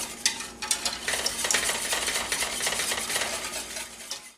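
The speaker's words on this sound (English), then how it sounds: "we're just going to whisk this together" A whisk stirs ingredients together in a pot on a stovetop set to medium heat, a steady busy scraping and clinking that runs close and fairly loud for several seconds without any talking.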